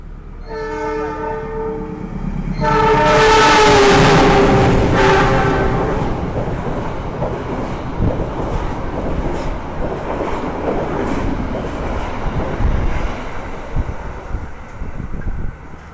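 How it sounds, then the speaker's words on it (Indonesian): A train horn blares as the Argo Wilis passenger train rushes past close by without stopping, overtaking the Lodaya train, its loud rumble and clattering wheels continuing steadily after the horn fades. "barusan kereta api Argo Wilis sudah melintas langsung dan menyusul kereta api Lodaya"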